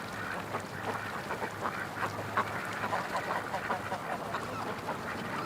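Ducks quacking in a scattered, steady chorus at moderate distance, with a low steady hum running underneath for the first few seconds.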